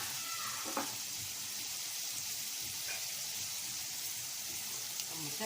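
Onions frying in oil, a faint, even sizzle with a couple of soft clicks from utensils, no talking.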